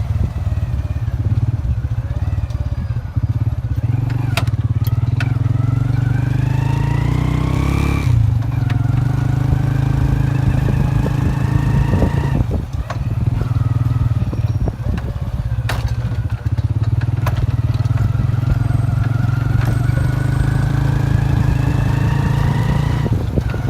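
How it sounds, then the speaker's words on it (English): A tuk-tuk engine in Siem Reap, Cambodia, drones steadily and loudly throughout a ride, with clattering road noise and brief revs, continuous and close. "I just boarded my tuk-tuk from Siem Reap"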